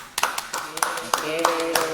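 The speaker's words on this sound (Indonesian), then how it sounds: "Tepuk tangan." Classroom students clap their hands in a short burst of applause during a teaching session, sharp irregular claps close by with a voice speaking over them.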